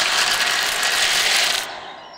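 Cartoon eggs crack and crunch as baby birds hatch, a dense, loud crackling rasp that holds steady for about a second and a half and then cuts off sharply, leaving a faint tail.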